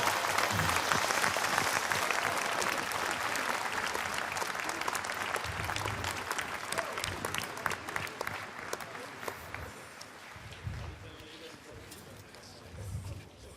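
Audience applause at the National Commemoration of the Slavery Past on 1 July, a long steady wash of clapping that fills the space and slowly thins toward the end, with a low voice murmuring underneath.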